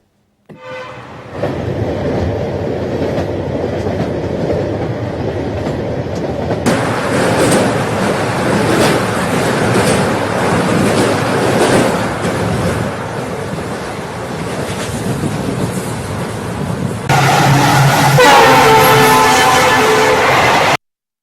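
A train runs steadily along a mountain railway line, its loud continuous rumble and rattling wagons filling the scene, with a brighter, harsher rush of sound near the end.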